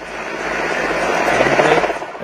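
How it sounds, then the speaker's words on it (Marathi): Prime Minister Narendra Modi's helicopter lifts off from Nashik bound for Mumbai, a loud, close rotor and turbine roar that builds steadily over a couple of seconds. "आता मोदींचं जे हेलिकॉप्टर आहे ते आता मुंबईच्या दिशेनं त्यानं उड्डाण घेतलेलं आहे"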